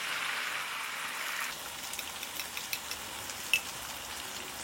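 Spice paste goes into a pan of lightly fried onions for a coral fish curry, giving a soft, even sizzle that quietens partway through, with a few faint clicks and taps and no speech.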